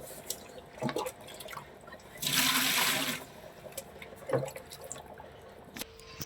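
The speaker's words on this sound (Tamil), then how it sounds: "முதல்ல இந்த பக்கெட் எடுத்து அதில் தண்ணியை ஊற்றிக்கலாம்." Water poured into a bucket being filled for holding fish, a short gushing splash of about a second, with a few faint drips and small knocks before and after.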